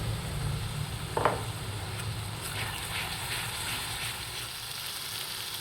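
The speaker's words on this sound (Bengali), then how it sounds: "আদা রসুন পেঁয়াজের পেস্ট মশলাকে ভালোভাবে কষিয়ে নেব এর মধ্যে গুঁড়ো মশলা দিয়ে দেব" A ginger, garlic and onion paste with spices sautés in a pan, giving a steady broadband sizzle with one sharp clink early on and faint scraping, no voices.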